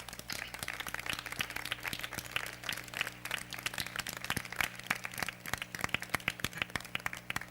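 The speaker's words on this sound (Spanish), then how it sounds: "Un aplauso al Señor, por favor." Scattered applause from a church congregation during a Spanish-language sermon, sparse individual claps with a crackly, uneven texture over a low steady hum, fairly faint and with no one speaking.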